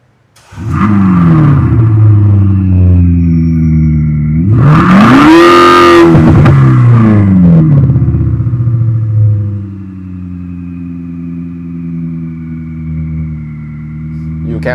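A 2020 Mercedes CLA180 coupe fitted with a Thor electronic exhaust sound system roars loudly and close, holding a deep droning rev, swelling into a sharp high rev burst midway, then settling back to a steady lower rumble.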